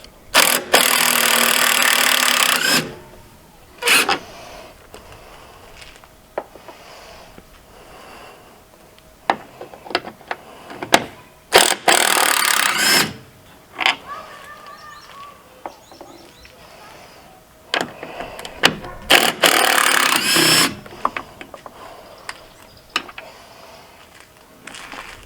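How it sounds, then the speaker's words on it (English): Cordless impact wrench driving the bolts on a Jeep Wrangler headlight during an Oracle Oculus Bi-LED projector install, heard as three loud, broadband bursts of a few seconds each, separated by quieter stretches with small clicks and handling noise. "We'll switch to my impact just to make it faster."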